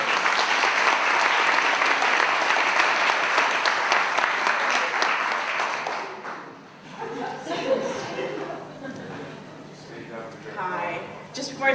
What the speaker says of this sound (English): A round of applause for Linda Todd.